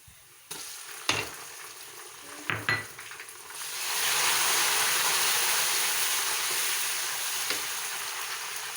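Onion and tomato frying in a pan for vegetable rice: a few clinks of a utensil against the pan, then a steady loud sizzle that swells and holds as the tomato goes into the hot oil.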